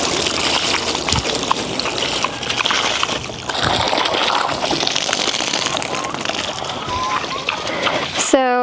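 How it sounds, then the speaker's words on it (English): Water sloshing and splashing close by as something is rinsed out, with a voice talking over the churning water. "rinse out the dirt before you put fresh water in"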